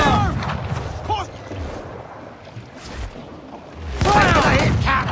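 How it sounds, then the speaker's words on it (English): Naval cannon fire rings out in a sea battle in Assassin's Creed IV Black Flag: loud booming blasts mixed with crashing water and shouted crew voices, and the heaviest burst comes near the end. "Fire! Hit cannon!"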